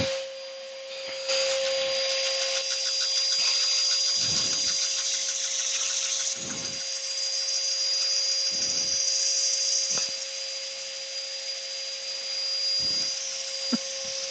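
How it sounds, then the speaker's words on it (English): Power sander working wood back to 400 grit, a steady close whine running throughout with a few brief dips where the tool lifts off the surface. "I'm going to sand this back now to"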